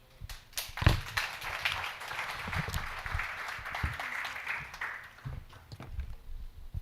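Audience at a workshop on biodiversity and traditional knowledge applauds after a talk, a sustained wash of many hands clapping that swells early and holds steady for several seconds before thinning slightly.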